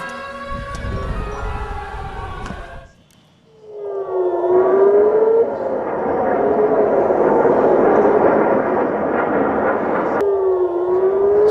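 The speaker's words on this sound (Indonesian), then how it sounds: "Sirine meraung-raung di seluruh Tel Aviv dan ledakan terdengar jelas saat rudal pertahanan udara diluncurkan untuk mencegat rudal Iran." Air raid sirens wail across Tel Aviv during an Iranian missile attack. Several loud rising and falling tones overlap, with a brief dip before the wailing resumes strongly and holds steady.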